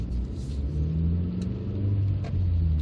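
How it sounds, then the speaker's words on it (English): A 2004 Suzuki Grand Vitara 1.6 Sport three-door on the move, its steady engine and drivetrain rumble carrying a low transmission whine that holds throughout, heard from inside the cabin with no talking. "More transmission noise"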